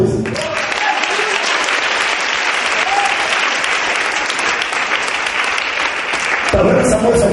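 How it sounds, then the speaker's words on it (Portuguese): A congregation applauds at a Pentecostal youth congress, with sustained loud clapping filling the room for several seconds and a few faint voices under it. The clapping swells near the end. "Você pode aplaudir Jesus?"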